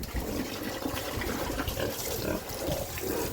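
A pig drinks water on a farm during hot weather, giving continuous wet lapping, sloshing and slurping close by, with small splashes and snorty grunts running steadily throughout.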